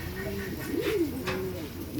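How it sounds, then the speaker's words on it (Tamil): A diamond dove at a birds park in Trichy gives soft, rising and falling coos over a steady background of other birds and ambient noise. "நம்ம ஊர்லேயும் இந்த புறா இருக்குது"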